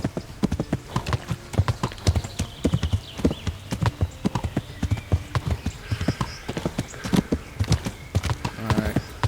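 Horse hooves clip-clopping steadily on a road in the medieval game Kingdom Come: Deliverance, a continuous brisk rhythm of hoofbeats with a faint whinny and some voice underneath.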